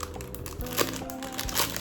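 Plastic wrapping around a jewellery box crinkles and rustles in a few quick handling bursts, close and fairly soft, with no talking.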